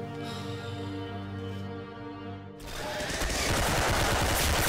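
In a video game, a steady humming tone gives way to a loud, sustained stream of rapid gunfire that fills the second half.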